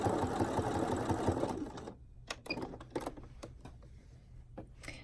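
Sewing machine stitching pockets on a garment, a fast continuous whirring run that stops abruptly, followed by scattered clicks and taps of fabric and presser foot handling.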